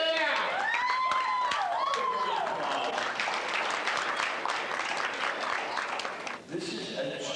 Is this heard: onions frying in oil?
no